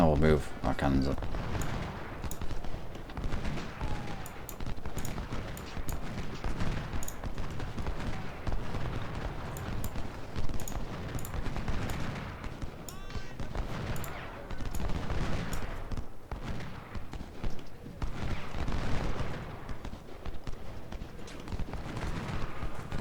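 Cannon and musket gunfire in the Civil War strategy game Ultimate General: Civil War, with a dense, continuous crackle of shots and booming blasts throughout and a voice talking over the battle.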